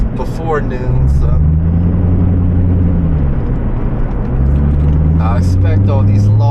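Road traffic rolls past at modest speed, a continuous low engine drone that rises and falls as vehicles pass, under intermittent talking by a man.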